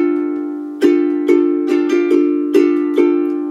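Ukulele strummed on one repeated chord in a vintage rag rhythm of down, down, up, a quick thumb-drag triplet, then down, up; bright, close strums over a ringing chord, with no talking.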